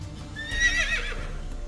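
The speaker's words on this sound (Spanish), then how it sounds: "El unicornio dio un relincho de advertencia." A single horse whinny stands in for a unicorn's warning neigh, a loud shrill rising-and-falling cry of about half a second, heard alone over a low background.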